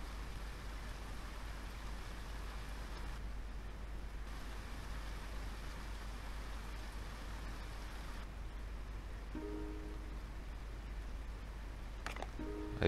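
Rain in the survival game Neo Scavenger forms a faint, steady wash of noise that shifts slightly in tone partway through, with a few soft tonal blips near the end.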